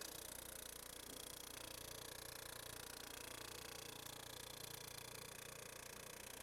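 A buffing wheel spins against thin stainless steel car trim coated in polishing compound under light pressure, giving a faint, continuous whirring hum with a steady grinding hiss.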